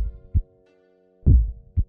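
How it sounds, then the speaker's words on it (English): A heartbeat in the video game The Kindeman Remedy thumps as low, deep beats, a lone pulse followed by a heavier doubled beat, close and clear with no talk. "Oh, you can hear the heartbeat still."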